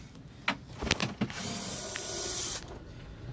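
An electric screwdriver undoes the screws on the lid of a motorhome water pump in an Adria A70DK: a few short close clicks and knocks, then a steady whirring run of about a second that stops abruptly.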